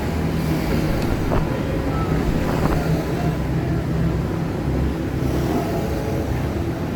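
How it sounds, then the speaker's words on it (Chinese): City street noise during a live temple-fair procession: a steady, dense outdoor rumble of traffic and crowd with a few faint brief clatters, continuous and loud throughout. "你所听到的声，拢是城市的声哦"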